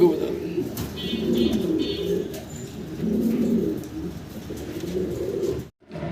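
Fancy pigeons, including Giribaz and flying high-flyer breeds, coo in low, rolling murmurs that carry on steadily nearby, with a few faint chirps above them.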